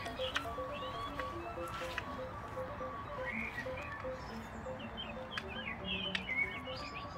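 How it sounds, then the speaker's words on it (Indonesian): Birds chirping at a winter campsite in South Korea, scattered short tweets and trills over a steady hum of insects and low ambient noise, fairly faint and somewhat distant. "Ada suara burung, ada suara jangkrik"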